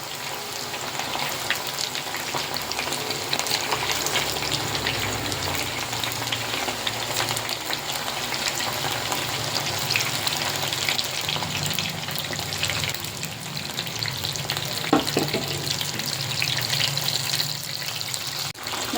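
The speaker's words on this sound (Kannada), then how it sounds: "ನೀಟಾಗಿ ಒಂದೊಂದೇ ಹಾಕೋದು ಬೆಂದಿರುತ್ತೆ ಎಣ್ಣೆ ಸ್ವಲ್ಪ ಚೆನ್ನಾಗಿ ಕಾಯ್ದಿರಬೇಕು" Mushroom pieces frying in hot oil for restaurant-style mushroom chilli, a steady loud sizzle and crackle running continuously and close, with occasional stirring and splashing textures.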